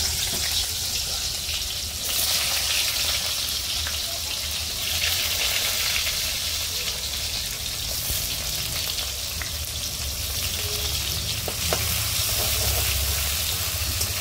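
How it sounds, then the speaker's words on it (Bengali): Chopped onions frying in oil left over from frying eggs, a dense continuous hiss of sizzling fat holding steady and close throughout. "আমার ডিম ভাজার তেলের মধ্যে আমি কেটে রাখা পেঁয়াজগুলো দিয়ে দেবো।"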